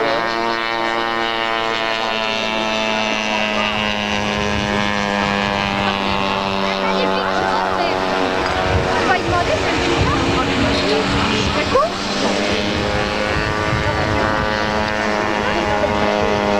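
A propeller aircraft with a large canopy passes over the airfield at a 1981 model aircraft meeting in Yverdon, its engine a sustained buzzing drone with harmonic whine, loud and continuous under a commentator's announcements.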